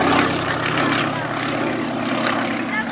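Propeller aircraft engine droning steadily and loudly through an aerobatic display at an airshow, a continuous broadband roar with slight surges as the plane manoeuvres.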